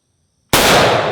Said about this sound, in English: I'm not shooting at anything specific right now. I'm just shooting at some logs that are sitting there.